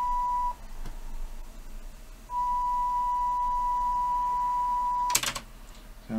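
Technics RS-TR575 twin cassette deck running an auto-dubbing pass: a steady tone holds, breaks off briefly, then returns and runs on before a short burst of mechanical clatter near the end, with a low hum underneath.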